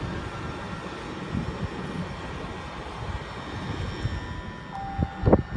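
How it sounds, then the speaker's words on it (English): A High Speed Train passes platform 1 at Ealing Broadway station, making a steady rolling rumble with a rising tone and some sharp clanks near the end. "HST passing platform 1."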